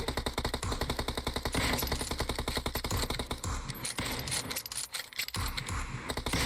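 Rapid automatic gunfire in PUBG Mobile, a fast steady stream of close shots running nearly continuously, briefly breaking before resuming, with little talk over it.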